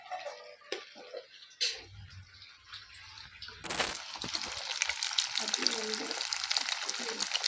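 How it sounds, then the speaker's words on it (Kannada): Chicken kebabs coated in cornflour fry gently over a low flame for a dhaba-style chicken pepper dry, with a few sharp clicks and taps before a soft, steady sizzle builds and continues. "ಈಗ ನಾವು ಲೋ ಫ್ಲೇಮಲ್ಲಿ ಇದನ್ನು ಚೆನ್ನಾಗಿ ಫ್ರೈ ಮಾಡ್ಕೊಳ್ಳೋಣ"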